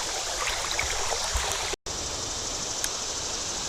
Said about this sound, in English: the current has picked up through this deep pool at least